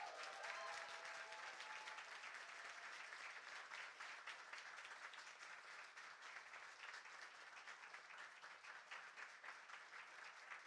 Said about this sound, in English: I think we should let the applause explain it